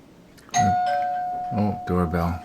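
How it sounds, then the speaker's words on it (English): An indoor doorbell rings with a clear sustained electronic tone, while a voice talks over and around it. "Oh, doorbell."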